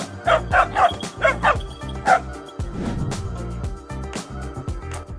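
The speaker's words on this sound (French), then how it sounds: "Et ce chat qui se bat contre les chiens comme un vrai héros." Several dogs bark and yip in quick, loud bursts while fighting a cat, with whimpering and scuffling noise between the barks.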